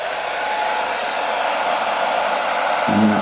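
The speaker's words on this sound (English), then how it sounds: "to activate the hairdryer" A hair dryer on low at 538 watts, powered by a Bluetti AC70 power station, blows with a loud, continuous airy whoosh and steady motor hum, close by, with a brief low tonal buzz near the end.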